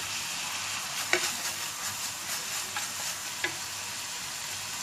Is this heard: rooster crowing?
no